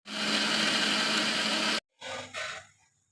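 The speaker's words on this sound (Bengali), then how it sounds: "কেটে নেওয়ার পরে আমি এই সমস্ত উপকরণ একসাথে মিক্সির জারের মধ্যে নিয়ে সেগুলোকে আমি বেটে নেব।" A mixer grinder whirs loudly and steadily as it grinds chopped ingredients for smoky chicken, then cuts off abruptly, followed by a few short rattling bursts of the jar settling.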